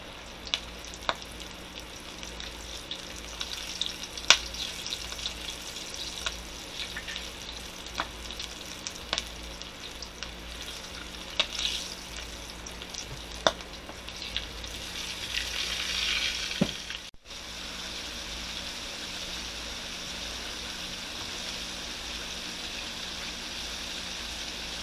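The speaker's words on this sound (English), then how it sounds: "And it's frying away." Flour-coated chicken dusted with cactus seasoning fries in a skillet, a steady close sizzle with scattered pops and crackles, easing into a quieter, even bubbling near the end.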